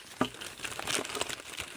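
A bag crinkles and rustles close by as it is opened and rummaged through, giving a quick loud crackle followed by a run of irregular crumpling.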